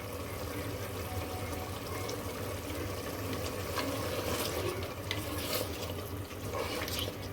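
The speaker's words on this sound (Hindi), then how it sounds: "इसको अच्छे से भून लेंगे" Mutton frying in half a cup of oil in a pot for palak gosht: a continuous dense sizzle and crackle, steady and close throughout, with no voices over it.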